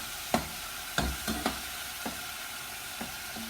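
Tomato cooks in a pan with a soft, steady sizzle underneath while a spoon stirs it, giving several distinct scraping knocks spaced unevenly at close range; no one speaks.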